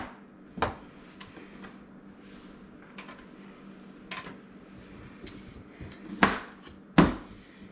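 A knife chopping zucchini into chunks on a cutting board, a series of sharp, irregular close knocks, sparse at first and growing louder toward the end, with no talking.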